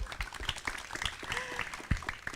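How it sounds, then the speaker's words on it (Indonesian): An audience at a disaster-preparedness dialogue event applauds in scattered, uneven claps of moderate loudness, with some background voices and clatter mixed in. "Luar biasa, tepuk tangan dulu"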